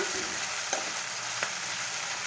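Fenugreek leaves and chicken fry in hot oil in a pan with a steady, dense sizzle. The sizzling stays constant and close throughout, with no talking over it.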